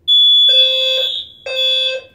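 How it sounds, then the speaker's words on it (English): System Sensor fire alarm notification appliances sound together, loud and close, with a piercing electronic tone followed by two long blaring horn blasts separated by a short gap. "It's kind of a neat thing because it's like, oh, fire, and then all the alarms go off."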